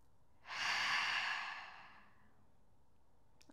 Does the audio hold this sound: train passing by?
no